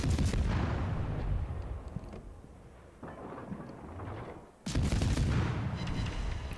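Warship guns fire shells in World of Warships as the Soviet destroyer Gremyashchy engages in naval combat, heard as two heavy, booming salvos with rumbling tails, separated by a quieter stretch of low engine and sea ambience.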